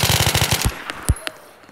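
A rapid burst of automatic gunfire rattles off, followed by a few scattered single shots, sharp and close, with a game-like sound.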